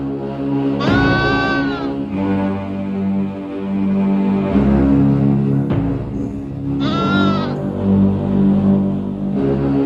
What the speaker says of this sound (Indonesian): Yang Kakang lihat itu memang kambing.